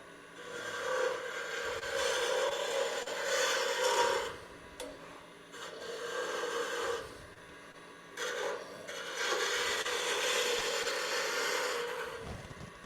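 A tool scrapes wood on a spinning lathe while a ladle is turned, a steady raspy rubbing in long passes of several seconds with brief breaks between them.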